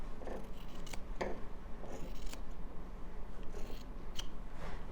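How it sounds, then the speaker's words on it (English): Sharp scissors snip along the edges of a quilt in several crisp, close cuts spaced a second or so apart, over a quiet room background with no talking. "I'm going to trim off these edges. Okay, take my scissors."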